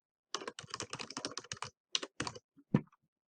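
A name being typed on a computer keyboard, a quick run of close, crisp key clicks followed by a few separated taps and a firmer final keystroke, with no talking.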